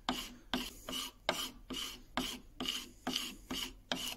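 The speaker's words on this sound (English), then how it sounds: "I think I'll just get this chisel and just remove any traces." A chisel scrapes across the wooden surface of an E.C.E. Primus adjustable-mouth plane during a mouth repair, in about nine rhythmic rasping strokes, close and fairly quiet, with no talk.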